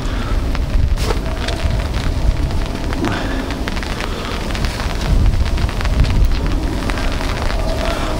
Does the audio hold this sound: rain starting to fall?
yes